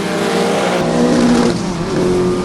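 A race car engine screams at high revs close by, its pitch shifting as it accelerates, a loud sustained mechanical whine with no voices.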